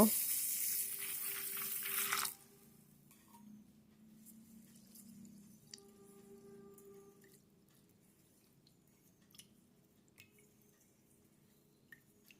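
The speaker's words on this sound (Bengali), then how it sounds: "এরপর এই চালটার মধ্যে জল দিয়ে খুব ভালো করে ধুয়ে নেব" Water rushes into a saucepan of Gobindobhog rice in a loud gush lasting a couple of seconds, then quieter sloshing and scattered faint drips follow.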